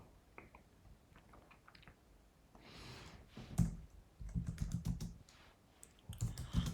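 Keys tapped on a computer keyboard to enter a command, a quick run of close clicks, some softer and some louder, with brief pauses between bursts.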